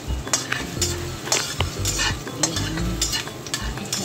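Onion sautés in a pan for bitter gourd with oyster sauce, with a constant sizzle broken by the repeated scrape and clack of a utensil stirring against the metal, close and fairly loud.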